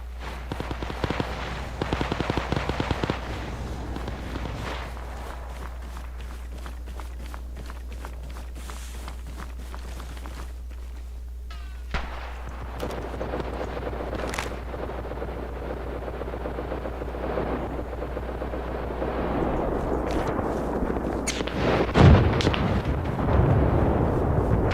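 Gunfire and explosions sound in the PC multiplayer war game ARMA Reforger: a rapid rattle of shots early on, scattered distant pops and cracks, then a louder burst with a heavy blast near the end, over a constant low hum.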